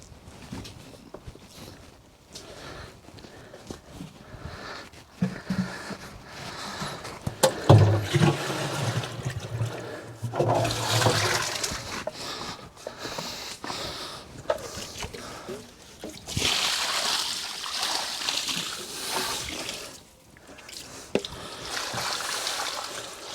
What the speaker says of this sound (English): There we go, quick watering.